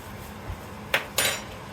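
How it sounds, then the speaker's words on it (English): Eggs clink against a metal pot as they are dropped into simmering water, giving two or three sharp, close knocks over a low steady background hiss. "So here I'm just going to take my eggs, drop them in,"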